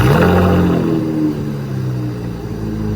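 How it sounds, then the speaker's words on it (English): A 2019 Chevy Camaro RS V6 fitted with a Cherry Bomb Extreme exhaust settles from a brief rev into a deep, steady idle rumble, loud and close with no voices. "That's the idle sound right there."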